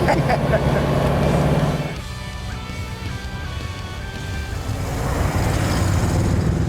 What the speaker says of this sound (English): I do love the sound of a flathead.